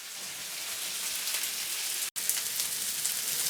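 Potatoes and sausage patties fry in a pan with a steady, close hiss and crackle like rain on a surface, broken by one brief moment of silence partway through.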